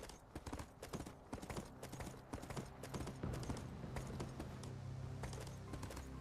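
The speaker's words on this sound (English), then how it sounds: "Get on the horse." Horse hooves clip-clop in the Fist of the North Star video game, a quick, steady run of hoofbeats with a low rumbling undertone, fairly close and continuous throughout.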